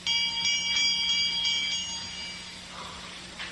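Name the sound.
small bell ringing in radio drama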